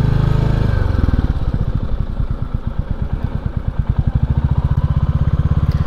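2022 Royal Enfield Classic 350 single-cylinder motorcycle accelerating on a road to overtake a van, its loud, close engine rising into a strong, rhythmic thumping beat with wind noise.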